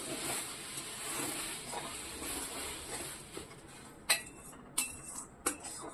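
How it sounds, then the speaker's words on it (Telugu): Boiling milk in a pan being stirred while making kova puri, a steady bubbling simmer with steam hiss, followed by a few sharp metallic clinks of a ladle against the pan near the end. "ఈ పాలు ఇలా మరుగుతూ ఉన్నప్పుడు ఇలా కలిపేసుకోండి"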